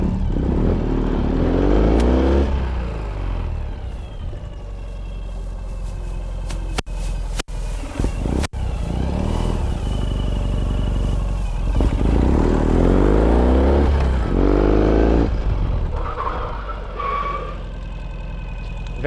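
A 2018 Ural Gear Up sidecar motorcycle in woodland camouflage rides along under light throttle, its engine droning steadily with gentle rises in revs and a few brief clattering knocks midway.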